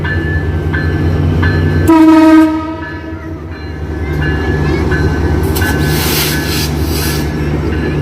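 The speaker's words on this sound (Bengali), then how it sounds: "এই যে ট্রেনটা আসতেছে এটা হচ্ছে রাজশাহীর ট্রেন" Rajshahi intercity train arriving toward Kamalapur station in Bangladesh, a loud horn blast then the continuous rumble and clatter of wheels and cars passing close by, with faint squeals, no talk.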